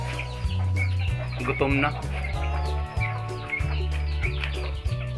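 A pet gamecock clucks and crows in short repeated calls beside a Filipino junkshop. Someone speaks over it, and a steady low mechanical hum runs underneath throughout.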